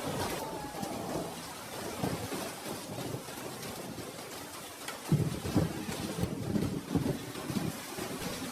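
Rain falls steadily as a dense, even hiss with a low rumble beneath, growing a little heavier midway and holding at a moderate level with no talk.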